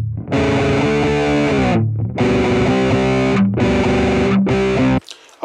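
A distorted electric guitar plays through a BOSS GT-1000 amp model with the bass adjusted. Four thick, sustained chords ring out with short gaps between them, loud and close, with no talk.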